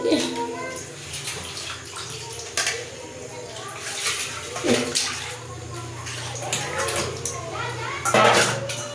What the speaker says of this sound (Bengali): তো এখানটায় আমি দেখো ভালো করে মাছগুলো ধুয়ে নিচ্ছি।